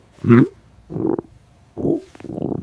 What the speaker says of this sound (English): my stomach is making funny noises